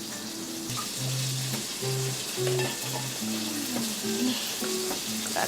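Carrot strips fry alongside potato in a pan, giving a steady close sizzle that runs through the whole stretch with soft clinks and stirring sounds on top.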